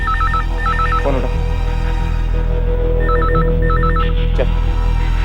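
A telephone rings with a trilling electronic bell, two short bursts then two more after a pause, over a loud steady background hum.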